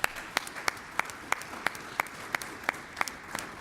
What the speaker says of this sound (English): let's give a round of applause to the organizers and the volunteers of this conference